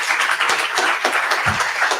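Applause for a person at a datathon event against racism, a dense steady patter of clapping hands filling the short moment at moderate loudness, with a brief low thump partway through.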